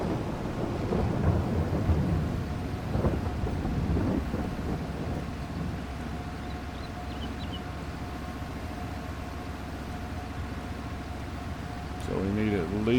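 Steady rain with low rumbling thunder in a farming simulation game, a continuous wash of downpour with a louder rolling swell early on, while a voice talks throughout.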